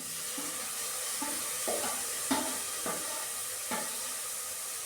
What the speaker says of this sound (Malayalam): നല്ലോണം വഴറ്റിയെടുക്കണം.